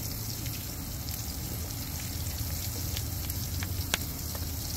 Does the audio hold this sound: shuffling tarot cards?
no